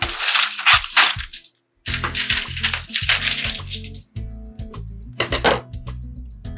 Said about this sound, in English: I'm gonna cut this down into 6 pieces.